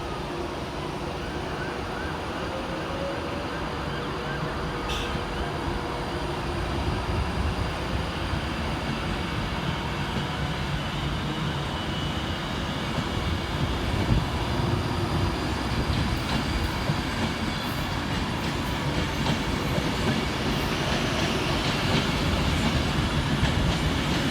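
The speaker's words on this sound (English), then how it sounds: "Departing next from the station will be 390-049, working the 1536 Avanti West Coast service from London Euston through to Manchester Piccadilly" An Avanti West Coast Class 390 train pulls out of Stockport station, a steady loud rumble and roar of wheels and traction that builds slightly as it moves off, with faint squeals over the continuous noise.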